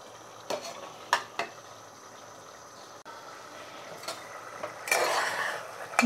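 Bottle gourd curry cooks on high flame in a pan. It gives a soft, steady sizzle, broken by a few clinks of a utensil as it is stirred, with a louder stretch of frying near the end.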